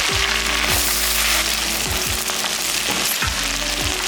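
Green chillies, mint leaves and coriander drop into hot oil in a frying pan, setting off a loud, steady sizzle with a few sharp bursts and clatters, close up and with no talking.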